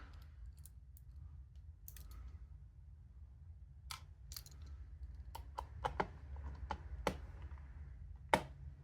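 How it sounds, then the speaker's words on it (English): Sharp plastic clicks and snaps come from a 1993 SEGA game cartridge as it is reassembled, irregular and close, set against a low steady hum and quiet between them. "Can you hear that clicking?"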